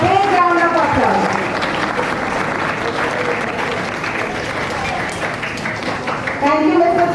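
At an Independence Day school event in Cuttack, a crowd gives a warm round of applause to welcome a legislative assembly member. The clapping stays loud and steady, with a voice speaking briefly at the start and again at the end.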